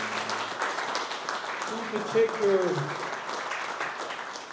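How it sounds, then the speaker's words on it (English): An awards gala audience claps moderately, the applause sitting under a host's speech that continues over it. "a round of applause"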